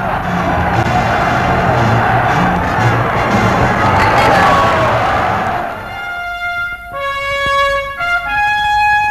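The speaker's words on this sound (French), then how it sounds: "Et que la France reconnaissante acclame en ce jour de victoire" A large crowd cheers and shouts in acclaim for Charles de Gaulle on victory day, 8 May 1945, a loud dense roar that fades into music toward the end.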